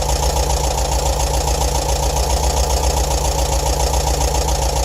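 A bus engine idles steadily at 870 RPM, a constant, close mechanical hum and throb that stays even and unbroken throughout.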